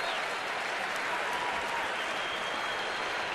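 Ballpark crowd at a Mets–Nationals game clapping ahead of the seventh-inning stretch, a steady wash of distant applause throughout.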